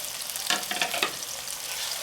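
Steady hiss and sizzle of onions frying in a pan, with a few louder crackles and stirring scrapes, close and continuous.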